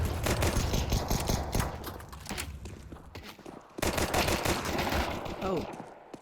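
Repeated automatic rifle bursts and single shots from a tactical shooter video game on the map Anubis crackle in quick clusters, with a brief lull midway and a commentator talking over them.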